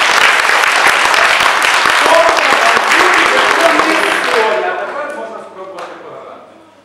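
Audience applause after a bandura performance at a cultural center in Yuzhne, loud clapping from a crowd that holds for a few seconds, then thins and fades away, with faint voices emerging as it dies down.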